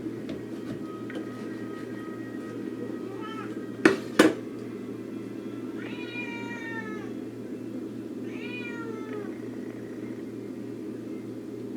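A cat gives two drawn-out, wavering meows a few seconds apart over a constant low mechanical hum, after two sharp knocks close to the mic.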